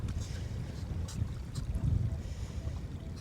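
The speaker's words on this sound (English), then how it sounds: "so pardon the wind" Steady wind buffets the microphone on a grey-sand beach shoreline, a low continuous rumble with gusts swelling and fading, fairly faint and with no voices.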